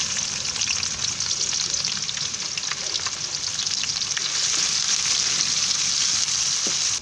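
Two medium onions frying in hot oil for a dhaba-style aloo gobi, a steady dense sizzle that carries on loud and close without a break.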